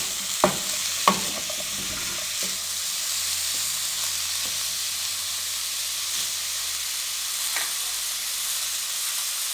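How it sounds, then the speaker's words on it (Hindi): Shredded chicken for patty stuffing frying in a pan, a steady loud sizzle and hiss throughout, with a few sharp clinks and scrapes of stirring near the start, and no talking. "अब इनको हम 1 से 2 मिनट के लिए फ्राई करेंगे।"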